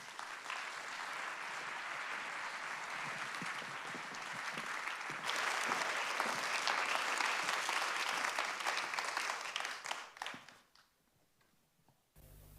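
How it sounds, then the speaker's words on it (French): A large theatre audience applauds actors coming on stage at an anniversary gala, steady and full for about ten seconds, then rising slightly before fading quickly into near silence. "j'ai l'énorme plaisir d'inviter sur scène nos formidables comédiens, Nedra Ayadi et Vincent Elbaz. Applaudissements."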